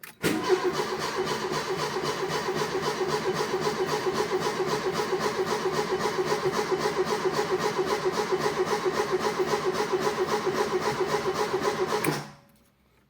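A 1980 Ford Fiesta with a carburetor cranks after months of standing, the starter churning in a long, even rhythmic whirr up close before cutting off abruptly at the end.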